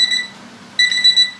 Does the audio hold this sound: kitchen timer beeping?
yes